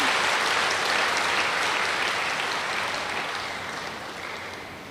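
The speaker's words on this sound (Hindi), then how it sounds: "अब ताली बजाओ खुद के लिए।" An audience at a spiritual self-realization gathering claps for themselves, a dense, loud wash of applause that gradually tapers off toward the end.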